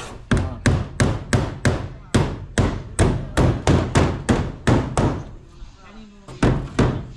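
A hammer strikes a hard surface in a steady run of about fifteen loud, close blows, then pauses briefly before two more hits, with faint voices in the background.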